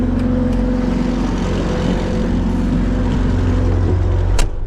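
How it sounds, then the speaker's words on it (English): Skid steer engine idling steadily after a cold start on a frozen day, a loud, close, continuous low rumble with a brief knock near the end. "cranked the skid steer so it's nice and warm"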